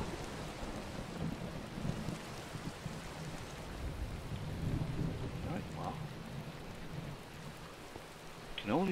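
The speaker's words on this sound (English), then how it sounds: "It looks like today's day is going to be rain." Steady rain patters and a low thunder rumble rolls through a thunderstorm in the video game Minecraft, a constant wash of drops with swelling rumbles, with no voice over it.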